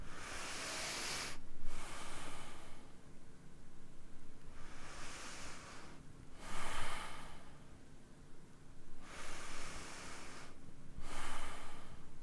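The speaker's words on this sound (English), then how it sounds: "This is the 5th one, so noisy exhalation" Noisy exhalations during a qi gong breathing exercise for cancer patients, several long breathy rushes of air spaced a few seconds apart, close and fairly loud, with quieter breathing between them.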